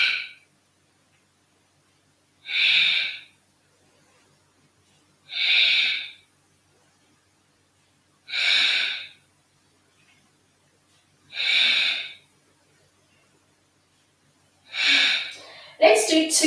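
Active yoga breathing pattern during an energizing session: five sharp, forceful exhalations spaced about three seconds apart, close and loud with silence between, followed by a final breath and a brief voice.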